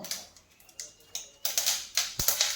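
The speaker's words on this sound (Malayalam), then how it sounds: "കടുക് പൊട്ടുമ്പോൾ" Sharp crackling pops and sizzles from mustard seeds spitting in hot oil, irregular bursts growing denser toward the end, close by.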